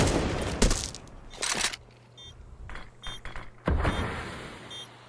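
Gunfire in a Counter-Strike match, with several sharp loud shots and rattling bursts separated by quieter gaps and small mechanical clicks.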